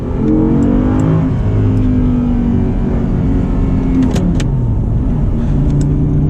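A manual Audi R8 V10 pulls hard, its engine note climbing in pitch through revs, then dropping at a shift before rising again, loud and close from inside the car, with small clicks and no talking.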